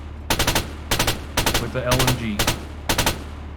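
Tank machine gun firing from the gunner seat in the Arma 3 video game, six loud, close bursts of rapid shots separated by short pauses, with a voice speaking briefly between them.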